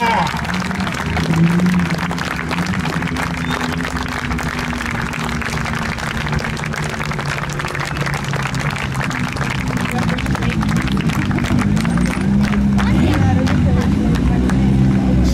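A crowd applauds steadily for Walter Röhrl's run in an Audi Quattro S1 at the Plattling sand track during the Olympia Rallye Revival 2022, with dense clapping continuing under an announcer talking.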